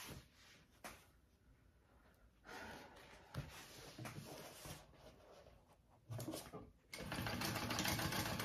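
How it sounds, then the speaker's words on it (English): Sewing machine stitching down parts of a fabric backpack, close up, with short intermittent bursts of whirring separated by pauses, ending in a longer, louder run. "I'm gonna sew that down."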